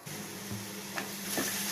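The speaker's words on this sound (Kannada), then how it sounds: "ಈಗ ಫ್ರೈ ಆಗ್ತಾ ಇದೆ." Okra (ladies finger) frying in oil in a pan gives a soft, steady sizzle with a few faint stirring scrapes over a short stretch, close and quiet with no talking.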